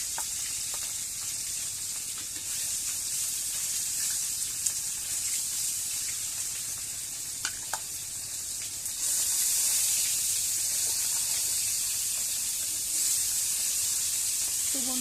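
Fish coated in salt and turmeric sizzles in hot oil in a wok on a clay stove, a continuous loud hissing fry that swells louder partway through, with a few faint clinks and no talking.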